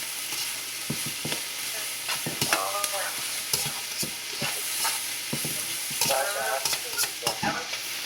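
Chicken stir-fry sizzles steadily in a pan while a utensil scrapes and stirs it in repeated sharp strokes, close and fairly loud, with no talking.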